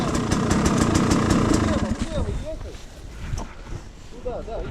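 A motorcycle engine, sunk up to its handlebars in a stream, runs with a steady, rough mid-pitched drone that fades and revs unevenly, while people talk loudly nearby.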